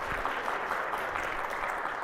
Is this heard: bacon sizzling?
no